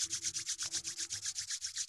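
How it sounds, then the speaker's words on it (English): Two palms rubbing briskly against each other during a qigong practice, a steady rhythmic swishing of about eight strokes per second, close and clear with no talking. "And rub your hands together,"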